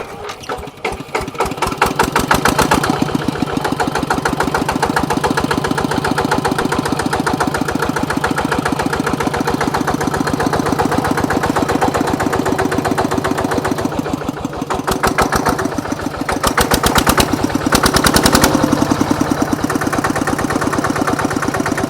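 A used Kubota two-wheel walking tractor engine running nearby, a loud steady chugging idle with a fast even beat that goes on for about twenty seconds with no talk over it.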